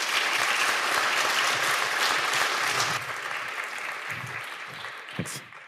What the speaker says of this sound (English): So another great applause, please, for the design team and everyone working on that.